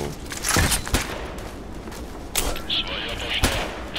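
Gunfire in the video game Contract Wars: a few sharp, separate shots spread unevenly across a busy battle background, with a high chirping effect midway and voices talking over the action.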